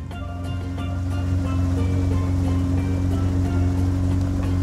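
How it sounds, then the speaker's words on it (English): A boat runs out onto open ocean off the Florida Keys, its engine drone steady and loud beneath a constant wash of water and spray against the hull, with no voices. "We made it out into the ocean."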